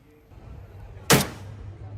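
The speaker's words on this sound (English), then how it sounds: "The sound of gunfire is no longer shocking." A single sharp gunshot cracks loudly out of a quiet, low rumbling background in a South African crime-affected area, followed by a brief decay and faint ambient noise.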